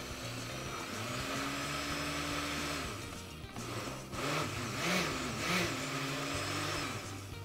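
A food blender motor whirs steadily while blending chayote with broth for a soufflé, its pitch dipping and rising as the load shifts, with a few louder surges toward the end.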